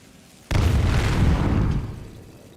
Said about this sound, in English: That's such a loud explosion noise that that spell makes